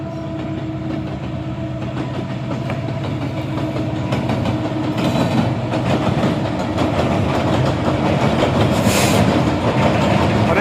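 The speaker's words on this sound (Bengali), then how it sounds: "এখানে ট্রেন আসতেছে" A train rumbles past steadily at Molla Bazar in Bangladesh, with clattering wheels and a broad mechanical roar that builds slightly toward the end.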